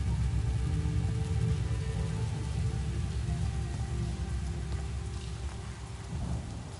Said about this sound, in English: We'll make it rain